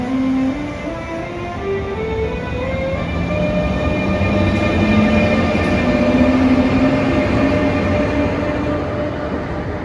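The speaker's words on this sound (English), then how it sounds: "The best thing about these trains is their departure sound." An ICE 3M high-speed train pulling away on departure, its traction motors whining through a series of rising stepped tones that climb and shift over a steady rolling rumble, loud and continuous with no talk.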